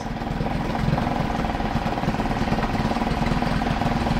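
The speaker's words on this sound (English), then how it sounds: "Idles better than my new motor does." A Suzuki 2.5 HP outboard motor idles after a carburetor repair, a steady close putter with an even rapid pulse that holds smooth and unbroken throughout, with no voices.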